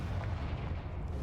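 The Bombarda spell explodes in Hogwarts Legacy with a dense, rumbling boom that fills the whole brief moment, heavy and low like artillery fire, with no speech over it.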